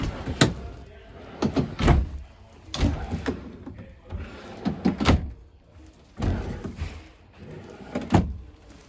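Drawers in a 2021 Wildwood 42DL fiberglass RV being opened and shut, a series of about eight sharp knocks and sliding thuds at irregular intervals, close and fairly loud.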